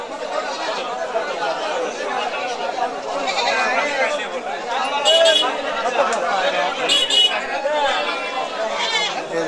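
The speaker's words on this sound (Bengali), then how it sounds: "এই যে একটা বুড়ানি ছাগল উঠছে" Black Bengal goats at a busy livestock market bleating repeatedly over a dense murmur of crowd chatter, several cries loud and close.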